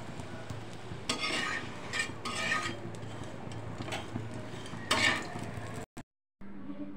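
Aloo paratha frying in oil in a pan, a soft steady sizzle with scraping and stirring bursts from a utensil, fairly quiet and close, briefly cutting to silence near the end.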